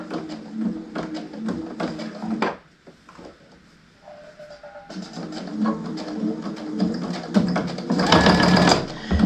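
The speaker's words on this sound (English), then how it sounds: "so that it will stitch real close to the edge on this thing to top stitch it" Sewing machine top stitching close to the edge of a fabric mug rug, a busy mechanical whir that runs, drops to quiet for a few seconds, then resumes and builds louder toward the end.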